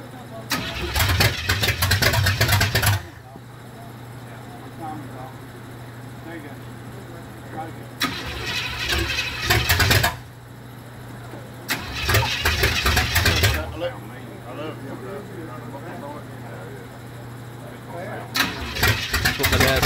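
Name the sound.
rat rod car engine starting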